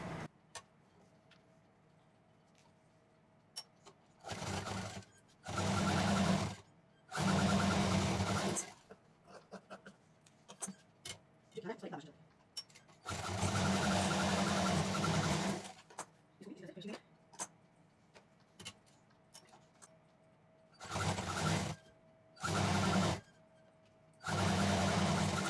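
A sewing machine stitches a shoulder bag made from denim jeans in loud, buzzing runs of a second or two each, separated by pauses with light handling noise and a person speaking.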